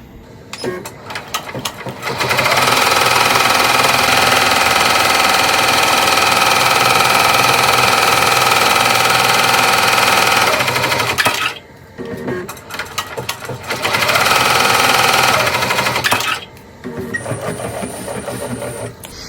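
An embroidery machine stitches top fabric down onto an in-the-hoop bag tag. It runs as a loud, steady rapid whir for about nine seconds, pauses, then makes a shorter second run with quieter mechanical clicks in the gaps.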